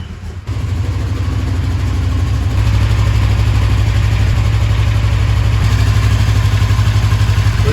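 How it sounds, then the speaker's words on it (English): A Kawasaki KRX 1000 side-by-side engine, freshly fitted with upgraded motor and transmission mounts, cranks and fires after a brief pause, then settles into a loud, steady, close idle with an even low rumble. "We're gonna start it up and see if the vibrations got any worse"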